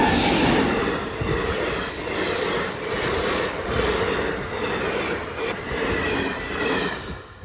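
A train rumbles steadily past a level crossing in thick fog, its wheels clattering and faintly squealing in a continuous, loud, close roar that never lets up.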